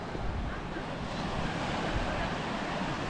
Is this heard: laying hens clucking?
no